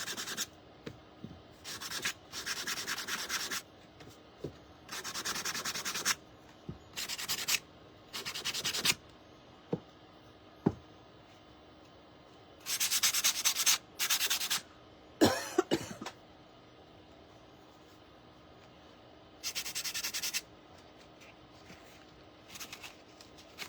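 Hand sanding along the edges of a painted wooden block to distress it, heard as repeated bursts of dry rubbing strokes of varying length separated by quiet pauses, fairly close and moderately loud.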